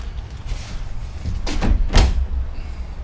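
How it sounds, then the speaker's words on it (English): A sliding side door on a 2018 Ram ProMaster sheet-and-post box truck is worked by hand, giving a couple of close, dull rolling thumps and a latching knock over faint background noise. "Coming inside, I've got the sliding door."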